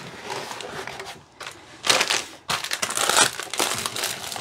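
A welcome pack from a hire narrowboat crinkles and rustles in bursts as it is pushed back into its bag, close and fairly loud, with short pauses between handlings and no talking.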